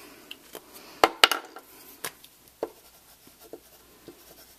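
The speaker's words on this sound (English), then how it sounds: "we are going to create designs on this masking tape with our gelatos." Gelato crayons drawing designs on masking tape, with faint scratchy strokes and a few sharper taps and scrapes, close up and quiet, with no talking.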